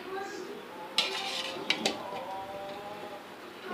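Biryani being mixed in a cooking pot, a few sharp metallic clanks of a utensil against the pot over a soft background hum, close and spaced apart, with no clear voices.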